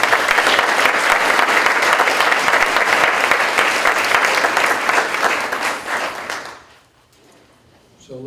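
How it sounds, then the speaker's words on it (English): Audience applause for students at a public meeting, sustained even clapping from a room of people for several seconds, then cutting off abruptly into near silence. "I want to applaud all of you."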